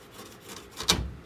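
Old axle straps on an MGB GT are cut through, giving a brief rasping cut that ends in one sharp snap or release, close and fairly quiet, with no talking.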